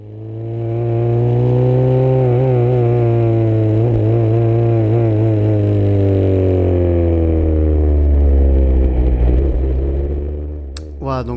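A Formula 3 race car engine on the Paul Ricard circuit, heard from inside the cockpit: a loud, steady high-pitched drone that rises and falls slightly through the gears and corners, ending with a sharp click.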